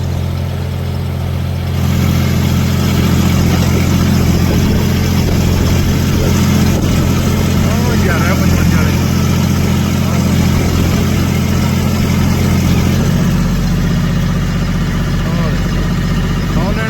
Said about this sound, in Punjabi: ਆਹੀ ਵਾਲੇ ਟਰੈਕਟਰ ਚੱਲ ਰਹੇ ਆਪਣੇ